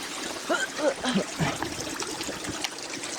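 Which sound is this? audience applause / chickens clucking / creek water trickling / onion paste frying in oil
creek water trickling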